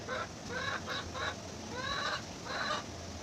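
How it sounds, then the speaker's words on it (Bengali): A hen clucks in a short series of rhythmic calls on a breezy morning, heard at moderate distance over steady wind noise, with no talking. "আমার মুরগিটা ডাকে"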